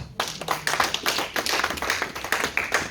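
A church congregation claps together in acclaim of Jesus, a dense, fast burst of applause that fills the room for a few seconds with no voices over it.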